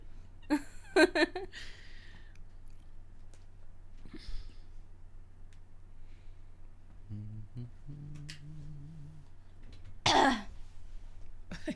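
A few short coughs and throat-clearing sounds near the mic, separated by quiet gaps, with a brief low hum in between.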